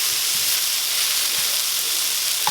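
Shrimp and linguine sizzle steadily in a skillet, a dense, continuous hiss that stays loud and close throughout with no talking.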